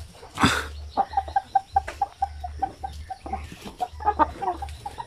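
Basilan rooster in a backyard poultry area, giving a loud crowing burst followed by a steady series of close, rhythmic clucks, with a low hum underneath.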